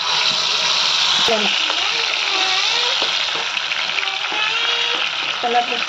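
Tomato paste fries in a pan for mutton tikka masala, crackling and sizzling steadily up close while a person talks over the cooking noise.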